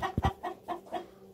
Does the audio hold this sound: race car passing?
no